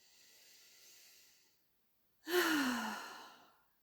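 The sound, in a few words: deep breath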